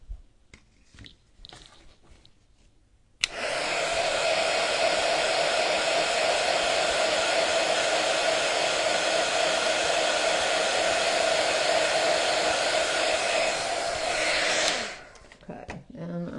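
A hair dryer blowing on a handmade lace-trimmed gift book: the motor switches on abruptly into a loud, steady roar for about eleven seconds, then cuts off, with faint handling noises before and after.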